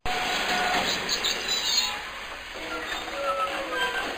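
A train travels in a Bengali horror cartoon, giving a steady, close rumbling roll with faint rail clatter that holds evenly for several seconds.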